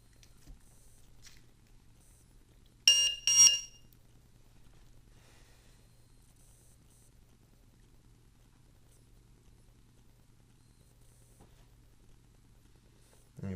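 A LiPo battery voltage checker for 1 to 8 cells sounds its low-voltage alarm as a short cluster of shrill electronic beeps in two quick bursts, then near silence with a faint hum.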